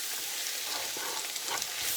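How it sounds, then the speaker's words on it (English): Roux sizzling in a pot while gumbo is being made, a dense steady hiss of frying with faint stirring scrapes, close and alone without talk. "now I hear a sizzle."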